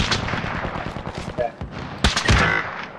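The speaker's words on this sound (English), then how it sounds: "Oh, I'm getting shot from the right." Rapid gunfire in the battle-royale game Call of Duty: Warzone, a quick series of close shots with a sharper burst near the end, mixed with game noise and a voice speaking over it.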